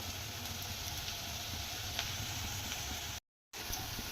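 Onions and garlic with a little salt sauté in a pan for a drumstick-leaf stir-fry, giving a faint, steady sizzle and hiss that cuts out for a moment.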